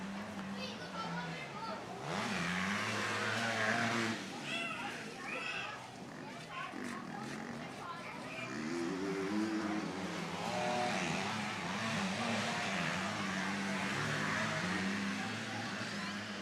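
Motocross bikes race on a dirt track at a Cessnock Motorcycle Club event, engines droning steadily at middle distance with rising and falling whines as riders fight for position, under continuous crowd and commentary chatter.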